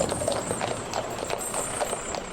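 Heavy Shire horses haul a load, their hooves clip-clopping in a steady, even rhythm of sharp knocks at moderate distance over a constant background hiss, with no talking.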